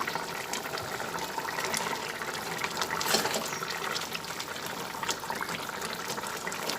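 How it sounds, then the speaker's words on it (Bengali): Lau peel koftas slip into simmering gravy in a pot, giving a steady, close bubbling and liquid sizzle with a brief louder splash midway. "ভর্তাগুলো দিয়ে এগুলো একটু ঝোলের মধ্যে ভালোভাবে নামিয়ে দিলাম"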